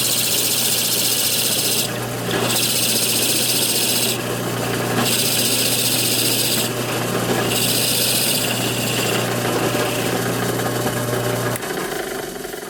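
A drill bores a channel into a wooden lathe jig that will hold a spoon or coffee scoop handle: a steady motor hum with a bright rasping grind that swells in several bursts, then cuts off near the end.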